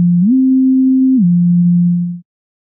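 Pure Data synthesizer producing pure sine tones, starting low, gliding upward to a held higher pitch, then sliding back down and sustaining before cutting off abruptly. No voices.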